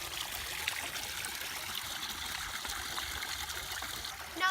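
Water splashes and trickles steadily from a waterfall into a koi pond, a constant soft babbling flow with no voices, fairly quiet and close.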